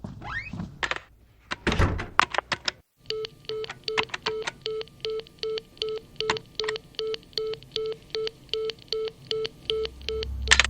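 Telephone dialing tones on a phone line in a horror film setting, with a few thuds and clatters at the start, then a steady run of evenly spaced beeps, each short and clear, close and fairly loud.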